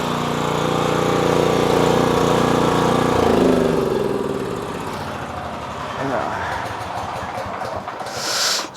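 A 4kW generator engine runs loud and close with a steady droning rumble, then is switched off and winds down, its pitch sliding lower as it slows to a stop while someone talks over it.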